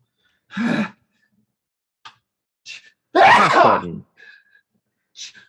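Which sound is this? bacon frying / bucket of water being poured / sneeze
sneeze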